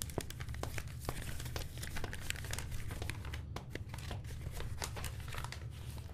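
A paper envelope is handled and torn open, giving close, quiet crinkling and tearing with sharp crackles spread steadily throughout, no speech.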